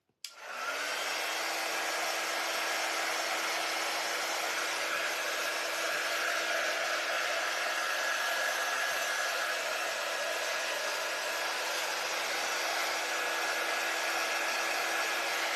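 A hair dryer blows on a washed, sanded church sign, switching on abruptly and running steady and loud with a constant whining hum for the whole stretch, alone without talk.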